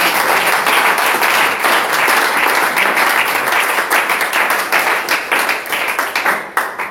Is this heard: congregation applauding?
yes